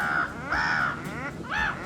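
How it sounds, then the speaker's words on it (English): A large gull gives loud harsh calls, three raspy cries in a row, close by with no one speaking. "that's a noisy seagull."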